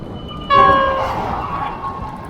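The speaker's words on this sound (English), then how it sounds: "I got a honk from the train!" A train horn blasts out suddenly and loudly partway through, holding a chord-like tone briefly before dropping in pitch and fading over steady road ambience.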